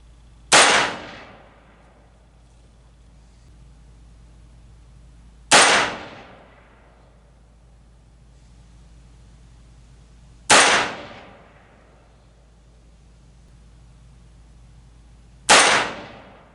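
An AR-15 rifle fires from a front bipod with a sandbag under the rear: four sharp, loud shots spaced about five seconds apart, each with a brief ringing decay, and no talking.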